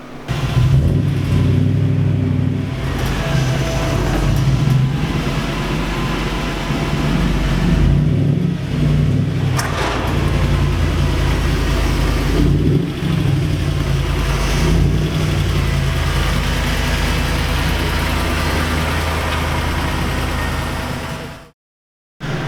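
Toyota 1UZ-FE V8 in a Hilux on a dyno revs hard and steadily for about twenty seconds, a loud, dense engine roar with brief dips between pulls before cutting off abruptly near the end.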